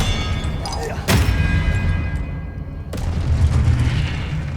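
Magic spell blasts explode in the Hogwarts Legacy video game, two sharp booming bursts at about a second and three seconds in, each followed by a rumbling roar over a busy, dense game soundscape.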